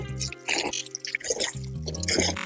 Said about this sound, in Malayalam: നമുക്ക് ഇച്ചിരി വെള്ളം കൂടെ ഒഴിച്ചു കൊടുക്കാം